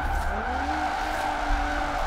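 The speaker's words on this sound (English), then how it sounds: "doing the drift donuts, I can't stress enough, is a very good way to learn that" A car drifting donuts in the Forza Horizon 4 racing game, driven with a Logitech G920 wheel, gives a continuous tire squeal over a steady engine drone, rising slightly in pitch, loud and without talk.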